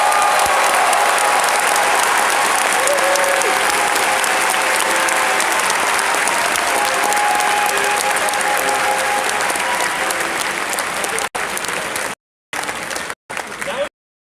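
Crowd applause at a Vex Robotics opening ceremony in the Vex Dome, dense sustained clapping filling a large hall for many seconds before cutting off in choppy breaks at the end.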